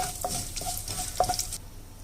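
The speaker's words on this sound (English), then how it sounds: "we'll saute this" Curry leaves sautéing in hot oil in a pan for bread upma, a soft steady sizzle with a few spatula stirs and scrapes, then quieter near the end.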